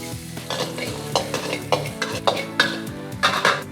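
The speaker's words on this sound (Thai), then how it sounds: "พอไฟเริ่มร้อนนะครับ เราจะใส่กระเทียมลงไปผัด" Garlic stir-frying in a pan of hot oil for Thai rad na noodles, a soft sizzle under repeated scraping and clinking of a utensil against the pan in irregular bursts, close and moderately quiet.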